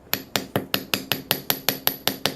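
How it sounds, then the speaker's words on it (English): A hammer strikes silver links on a block in an even series of about ten sharp, ringing metallic taps, close and clear with no voices. "depending on the angle you hold the hammer at, you can get different textures put onto your piece"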